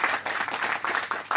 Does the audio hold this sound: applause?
yes